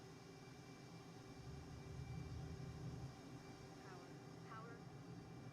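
A jet on the HMS Queen Elizabeth carrier in Microsoft Flight Simulator at full throttle on the catapult, its engine a steady whining roar with a swell of low rumble as it launches, quiet and even under a spoken voice.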